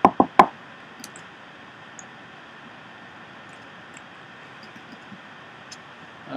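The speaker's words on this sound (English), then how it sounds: "Knock on wood here." Knuckles rap on wood three times in quick succession, close and crisp, then only a faint hum and a few tiny ticks remain.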